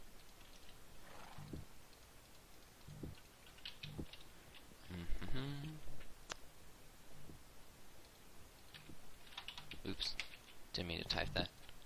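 Keyboard typing in a Starcraft game session, coming in short bursts of clicking keystrokes spread across the clip, mixed with game sound effects and some voice sounds.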